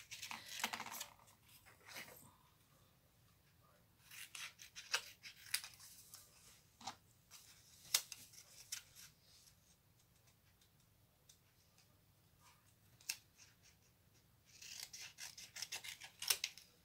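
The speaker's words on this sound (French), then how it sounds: "je crois que je vais découper" Scissors cut out paper shapes such as a frame and flowers for a shabby-chic craft, quiet snipping and rustling in scattered bursts, with soft ticking cuts and pauses between, close and faint.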